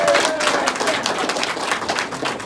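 An audience at a county Republican Party meeting applauds: dense, steady clapping from many hands in a room, sustained for the whole moment.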